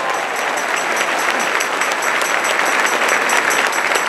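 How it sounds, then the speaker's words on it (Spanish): Sustained, dense applause from the audience at a 2014 Catholic charismatic gathering, a steady wash of many hands clapping close by, with no voices over it for the full few seconds. "Un aplauso por el regalo de Dios."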